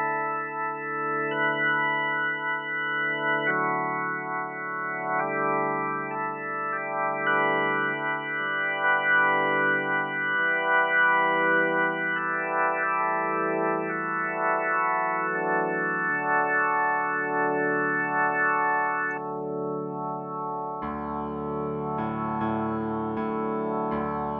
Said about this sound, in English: It's the same Hammond organ sound for the whole song